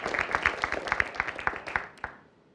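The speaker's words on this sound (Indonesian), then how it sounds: "tepuk tangan sekali lagi untuk semua tim" Crowd applause for all the teams at a school Quran quiz competition, a dense patter of hand claps that fades out toward the end, heard without talk.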